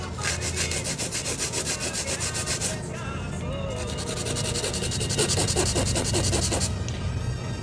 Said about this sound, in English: I file the sidewalls, so making sure the cuticle area matches the bottom of the nail tip.